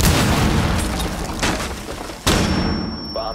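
Breach charge going off on a wall in Rainbow Six Siege: a loud, close boom with dense rumbling debris that holds through the clip, then a second sharp hit near the end.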